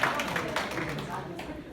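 A short burst of applause from a small group in a coaching class after a monodrama performance, close and scattered clapping lasting under two seconds.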